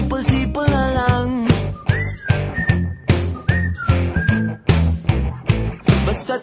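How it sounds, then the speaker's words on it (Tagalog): A person whistles a melodic tune over a full pop-rock band backing in a song, the whistled notes sliding between pitches above drums and guitars. "Pasipol-sipol na lang."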